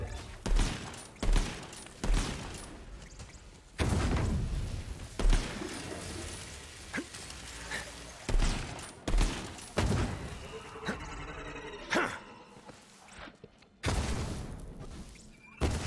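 Rapid bursts of cannon fire and gunshots in the video game Borderlands 3, repeated sharp booms in an uneven rhythm with shattering impacts, loud and close throughout.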